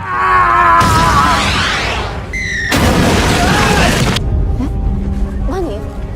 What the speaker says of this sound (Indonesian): bom tersebut meledak di kedai yang tadi mereka kunjungi